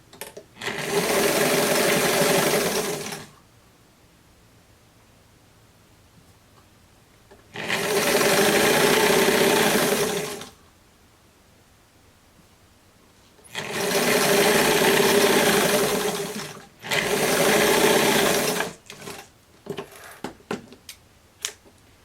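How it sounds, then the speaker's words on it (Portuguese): A sewing machine stitching a French seam on a summer dress runs in four steady bursts of whirring, each a few seconds long with quiet pauses between, followed by light clicking handling sounds at the end. "Vou fazer uma costura francesa aqui para ficar bem bonitinho o fechamento."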